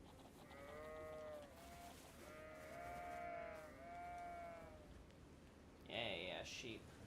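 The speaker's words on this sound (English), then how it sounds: "Yeah, yeah, sheep." Sheep in a video game bleat in several drawn-out, wavering cries, followed by a brighter, higher squeal near the end, all over a steady background bed.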